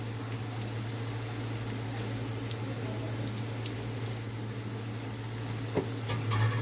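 Shrimp roe frying in a pan, a steady low sizzle with faint stirring scrapes, close and continuous with no talking.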